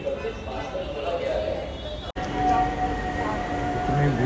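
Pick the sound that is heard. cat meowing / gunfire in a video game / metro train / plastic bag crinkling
metro train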